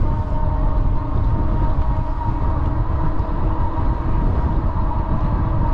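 Loud, continuous rumble of a train in motion, heard from up close, with steady rolling noise and faint rhythmic clatter.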